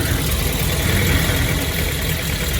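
Steady close idle of a Triumph TR7 engine with a slight exhaust leak, a constant low throb with a light ticking undertone and no voices.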